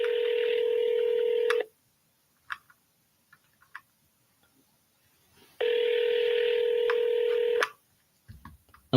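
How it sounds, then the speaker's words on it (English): A telephone on a live sales call gives two long steady ringback tones a few seconds apart, loud and clear, with faint clicks and small noises in the quiet gap between them. "I'm going to double dial him too."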